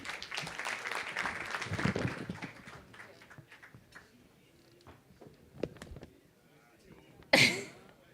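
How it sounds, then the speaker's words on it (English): An audience applauds at an unveiling ceremony. The dense clapping fills the first few seconds, then thins and fades into quiet room sounds, with a sharp knock near the end. "So a round of applause for her, please."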